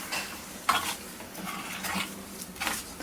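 Amla pickle stirred in a pan on the stove, a spoon scraping and clinking in repeated strokes with soft sizzling between them, close and fairly quiet.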